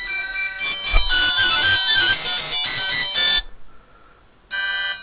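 A phone ringtone previewed from the settings menu plays as a loud, bright electronic melody with a thumping beat for about three seconds, then stops briefly before another ringtone starts again.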